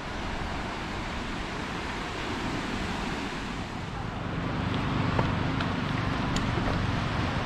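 Waves wash steadily onto Coro Beach in Besuki, Tulungagung, a broad continuous roar with wind buffeting the microphone, swelling slightly toward the end.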